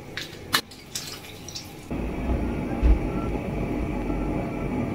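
Water pours into a cooking pot of green peas with chicken, a few sharp clinks and drips first, then a steady loud rushing fill that runs to the end.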